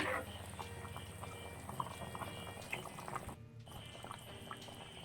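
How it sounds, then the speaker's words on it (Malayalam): Mackerel curry in a roasted ground coconut gravy boils in a covered pot with a faint, steady bubbling that continues throughout. The bubbling briefly drops out midway, then resumes. "നമുക്കിതൊന്ന് അടച്ചു വെച്ച് ഒന്ന് തിള വരട്ടെ"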